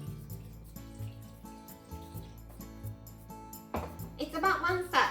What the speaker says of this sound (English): So let's put some water.